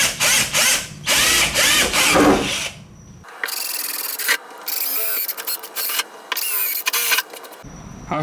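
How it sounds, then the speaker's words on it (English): A drill boring holes in a metal plate for a wing mount on an E36, heard as close, loud whirring bursts with grinding chatter, interrupted by short silences and restarts. "so I can just drill this now"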